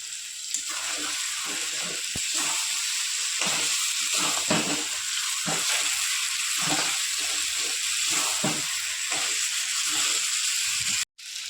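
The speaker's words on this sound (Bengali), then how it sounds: "এবার মাংসটা মিনিমাম আমি দশ মিনিট দশ পনেরো মিনিট কষিয়ে নেব" Chicken meat being stir-fried in spices for a Bengali chicken kosha, a steady close sizzle and hiss running throughout with occasional clinks, no voices.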